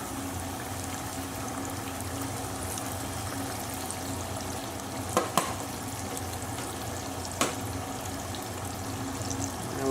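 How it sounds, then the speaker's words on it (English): Battered steaks for country fried steak lowered into hot oil in a pan, a continuous bubbling hiss with a few brief clicks and knocks, close and steady. "going to slowly add our steaks in. Now you want it to bubble like that straight away."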